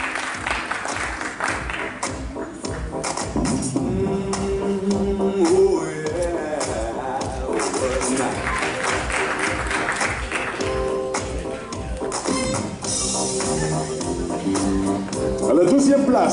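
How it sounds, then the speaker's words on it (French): Crowd applause for a podium finisher at the Grand Prix du Vexin 2018 awards, blended with background music and an announcer's voice, moderately loud throughout. "On peut l'applaudir."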